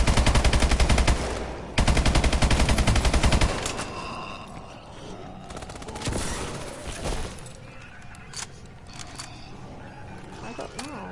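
Video game gunfire in Call of Duty Advanced Warfare Exo Zombies: a loud burst of rapid automatic fire, a brief gap, then another sustained burst, followed by scattered impacts and game noise with voices underneath.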